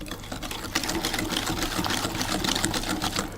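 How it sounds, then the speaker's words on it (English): A whisk beats vanilla extract into brownie batter in a bowl, making a fast, steady, rhythmic clatter that runs close and continuous throughout. "I'm going to add in the vanilla extract, 2 teaspoons, whisk that in as well."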